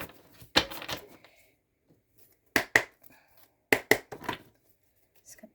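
Bowed tarot cards are shuffled close by in three short, crisp bursts of riffling and slapping, separated by near-silent pauses, with no talk.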